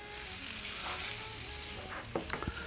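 A homemade McRib-style pork patty sizzles on an adjustable-heat grill, a faint, even crackle with a few brief clicks and taps near the end.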